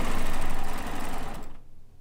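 Sewing machine stitching a quilt block seam in a steady, fast, loud motor whir with rapid needle rhythm, slowing and fading near the end.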